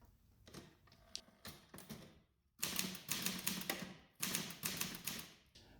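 An Olivetti Linea 98 office typewriter clatters through bursts of rapid key strikes, close and loud, with short pauses between quick runs of typing and no talk.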